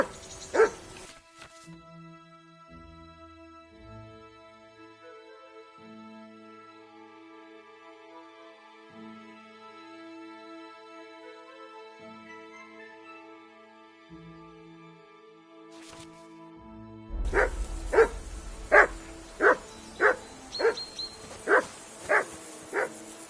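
A dog barks in a quick series of about eight sharp, evenly spaced barks close by, after a long stretch of quiet background music with a few isolated sounds.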